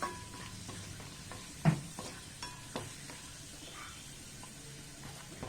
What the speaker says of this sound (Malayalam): അതുവരെ നമുക്ക് ഇതുപോലെ ഇളക്കി കൊടുത്തോണ്ടിരിക്കാം